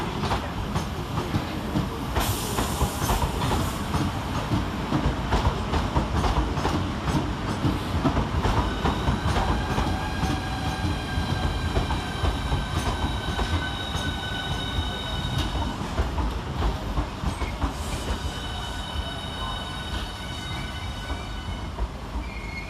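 A Southeastern Class 395 high-speed train, unit 395 016, pulls into Strood station with a loud rumble and clattering wheels. High brake and wheel squeals grow over the second half as it slows.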